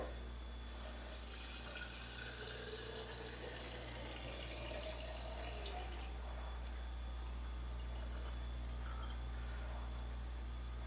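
Vanilla extract liquid is poured into a glass jar in a home kitchen, giving a steady, close trickle and splash that runs for several seconds over a faint background hum.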